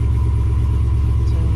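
A car engine idling just after starting, a loud close low rumble with a steady even pulse, running alone without voices.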